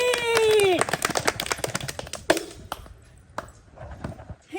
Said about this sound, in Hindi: चलिए ताली बजा दीजिए